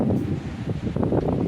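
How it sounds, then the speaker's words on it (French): Strong wind buffets the microphone in loud, continuous gusts with a low rumbling roar on a hike in open countryside. "Le vent il souffle tarpin fort"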